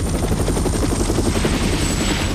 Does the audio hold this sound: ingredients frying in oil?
no